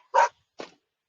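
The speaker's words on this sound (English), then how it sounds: "shut up, dog." A dog barking twice nearby: a loud, sharp first bark, then a shorter, quieter second one about half a second later, with silence around them.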